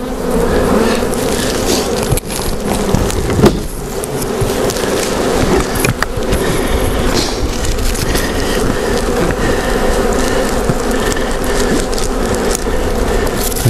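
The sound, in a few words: swarm of bees being moved into a skep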